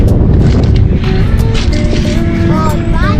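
Strong wind blows outdoors at dusk on a dike, buffeting loudly and steadily across the microphone with a person talking under it.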